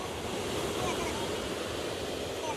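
Sea waves wash onto the shore in a continuous broad roar, with some wind buffeting the microphone and no pause or break in the surf.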